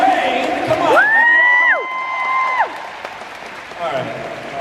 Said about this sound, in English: A round of applause for the R's, ladies and gentlemen